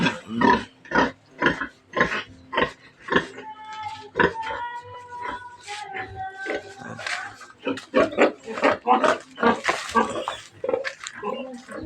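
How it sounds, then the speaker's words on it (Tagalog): Boar pig on a small farm grunting and snorting in a steady run of short, close calls, with some longer squeal-like tones midway and occasional voices among the animal sounds. "Ito yung aking barako."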